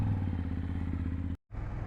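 Motorcycle engine running steadily during a short ride, a loud, close, continuous low throbbing that cuts out abruptly for a moment near the end and then resumes.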